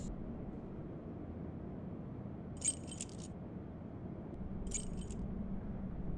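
Video game keys are handed over with two short, bright jingles of metal keys a couple of seconds apart, set against a low steady ambient hum.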